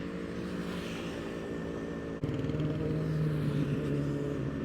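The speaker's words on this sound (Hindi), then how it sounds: "पूरा स्टॉक एग्जॉस्ट है उसको, कोई भी आफ्टर मार्केट एग्जॉस्ट नहीं है" A Bajaj Ninja 1000 motorcycle on its stock exhaust runs with a deep, even drone, then steps up abruptly to a louder, rougher pulsing roar partway through, close and with no talking.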